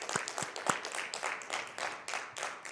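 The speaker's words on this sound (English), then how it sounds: "Round of applause for those funders." A theatre audience claps for the show's funders, a fairly small crowd whose individual claps come through distinctly, with several sharp near hand strikes over a quieter, uneven patter that keeps going.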